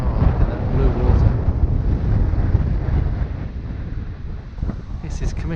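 Strong wind buffets the microphone on a windy day by blue water in Bermuda, a loud, continuous low rumble with gusty surges.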